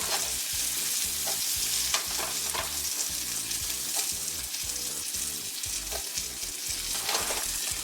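Onions saute in butter in a pan, a busy continuous sizzle broken by repeated scraping and stirring strokes of a utensil, close and fairly loud throughout.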